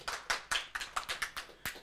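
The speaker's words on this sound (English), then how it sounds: "Let's give them a warm round of applause." Audience applause at a tech meetup, a small, sparse group clapping with distinct individual claps in an uneven rhythm, fairly quiet and without talk.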